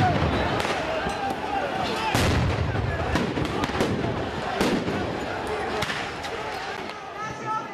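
Firecrackers, flares and police stun grenades go off during a violent street clash between opposition protesters and police, with repeated sharp bangs and booms at irregular intervals over constant loud crowd noise and shouting.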